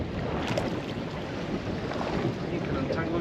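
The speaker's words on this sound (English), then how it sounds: "So in the space of time it took me to re-rig, the wind has got up further." Wind blowing hard across a fishing boat at sea, a steady loud roar of buffeting on the microphone with water noise beneath.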